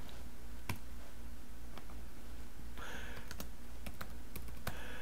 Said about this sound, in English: Type it in there.